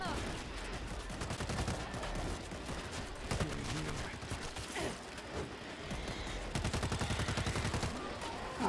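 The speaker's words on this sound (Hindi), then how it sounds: "फटाफट से गोलियां चला के भूनना शुरू करूंगा।" Rapid bursts of World War Z gunfire in a Tokyo level, repeated automatic shots in clusters with brief pauses, fairly loud and close with mechanical clicks between.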